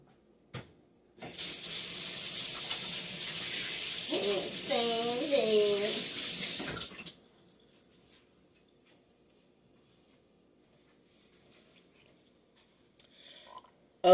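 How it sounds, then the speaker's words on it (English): A running sink tap pours steadily for about six seconds while hands are washed beneath it, with a short vocal sound over the water partway through, then quiet with faint handling noises. "Let me wash my hands."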